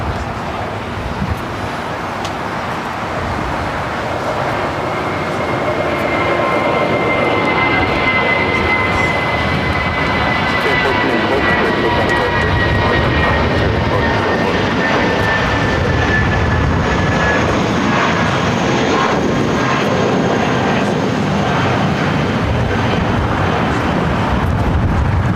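An Airbus A320 airliner on Vegas-bound Flight 1494 roars at LAX airport, a loud, steady jet engine rumble with a slowly shifting whine that holds for the whole stretch without any talk.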